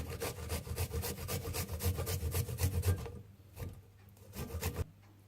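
Garlic is rubbed firmly around the inside of a fondue pot for cheese fondue, giving a steady, close scraping rasp in quick repeated strokes that slow and thin out toward the end.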